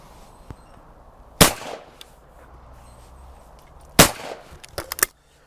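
Over-and-under shotgun fired outdoors at clay targets: two loud, sharp shots about two and a half seconds apart, then a quicker cluster of fainter cracks, all over a quiet background.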